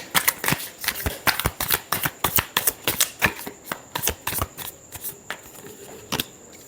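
Tarot cards are shuffled by hand up close, a quick run of crisp riffling snaps and flutters that come in a rough, uneven rhythm of bursts for several seconds, with no talking.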